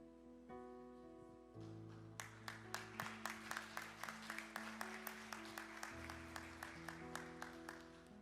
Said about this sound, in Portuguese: Eu sei que as palmas foram fracas